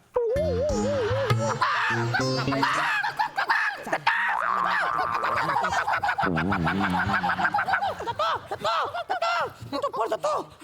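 A man imitates a rooster crowing on a comedy stage, with repeated loud, warbling cock-a-doodle-doo calls and clucks running almost continuously, with audience laughter and talk mixed in.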